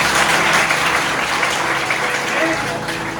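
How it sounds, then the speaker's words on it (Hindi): Steady, dense applause from a crowd at a gathering on a walking pilgrimage in India, sustained at a constant level throughout with a faint tone briefly showing through. "तो ऐसे व्यक्ति के लिए मैं चाहूंगा कि एक बार जोरदार ताली हो जाए।"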